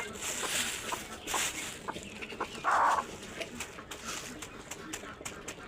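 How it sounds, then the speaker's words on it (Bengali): A broody hen, sitting on fifteen eggs and being given feed, clucks in short, soft bursts close by, with a brief sharper call partway through and a person's voice faintly present. "এই যে আমার কুচে মুরগিটা চলে এসেছে, ওকে খাবার দেবো"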